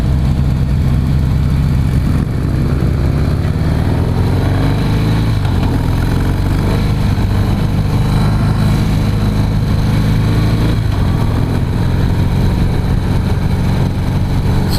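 A 2016 Harley-Davidson CVO Pro Street Breakout motorcycle runs steadily while being ridden, its deep engine rumble loud and continuous for the whole stretch, with the throttle held smooth through a corner and no voices over it.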